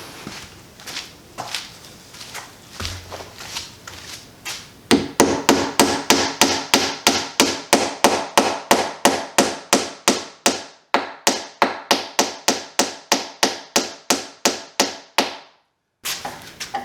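Rapid, sharp hammer blows drive a glued wooden dowel into a breadboard end on a tabletop, dozens of loud evenly spaced strikes close by after a few softer taps, stopping briefly before one last hit.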